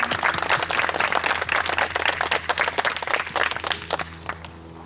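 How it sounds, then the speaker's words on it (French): An audience claps steadily at a secular wedding ceremony, dense, sustained applause over a low hum that thins slightly toward the end. "On va applaudir Patricia quand même."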